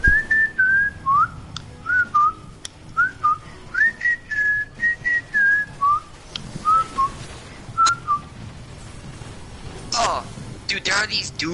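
A person whistles a wavering, improvised tune of many short clear notes, close and moderately quiet, with a few brief knocks and rustles toward the end.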